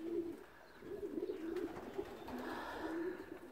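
Racing pigeons coo softly in a loft, a low repeated throaty murmur rising and falling in short phrases, fairly quiet and close with faint background noise.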